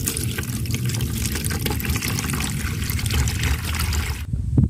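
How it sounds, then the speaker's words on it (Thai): Ash water being poured and filtered to leave only the clear liquid, a steady close splashing trickle that runs continuously and then cuts off near the end. "กรองเอาแต่น้ำใสๆนะคะ"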